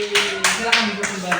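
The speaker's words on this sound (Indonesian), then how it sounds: "Tepuk tangan untuk kelompok 1." An elementary school class applauds group 1 in the classroom with a rhythmic patter of clapping in quick, regular bursts, while a teacher speaks over it.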